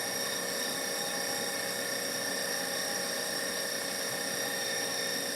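An electric grinder runs on raw halibut meat being processed into dog treats, giving a steady, continuous mechanical whine and drone with no breaks. It plays alone at moderate level throughout.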